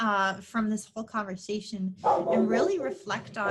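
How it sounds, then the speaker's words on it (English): A pet dog barks indoors in a few short yips mixed in with a person talking. "I'm so sorry for my dog barking"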